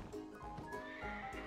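A horse in the online game Black Desert Online whinnies, a loud rising and falling neigh with snorting and a few hoof thuds, lasting just over a second.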